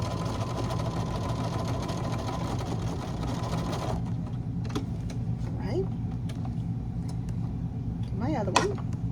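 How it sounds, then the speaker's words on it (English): A sewing machine stitches across fabric pieces for a square bucket, running in a dense, steady whir for about four seconds and then stopping. Quiet handling and a voice follow. "So now I'm just going to sew across this, and I'm going to do this to all 4 pieces."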